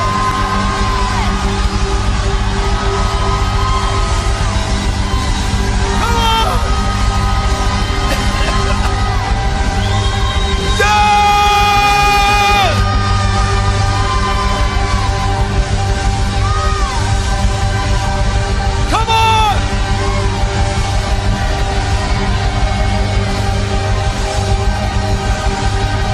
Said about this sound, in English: Just do me a favor, just for about 30 seconds, raise up your voice and shout